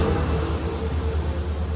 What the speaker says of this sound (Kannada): ಫೈನಲಿ ವಾಸ್ಕೋಡಿಗಾಮ ಟ್ರೈನ್ ಬಂತು ಗೈಸ್.